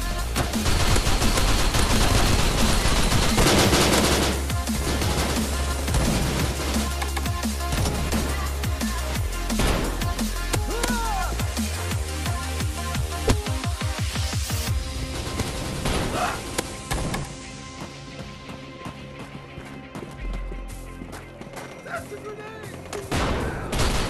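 Lewis gun fire in the shooter game Bullet Force: dense, sustained bursts of automatic gunfire with crashes and booms, loud and continuous throughout, with voices faintly mixed in.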